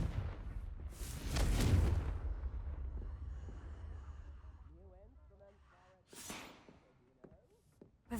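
In the video game Hogwarts Legacy, the Confringo spell bursts with a loud, booming blast that rolls into a fading rumble. A second, sharper burst comes later over faint voices and ambient game sound.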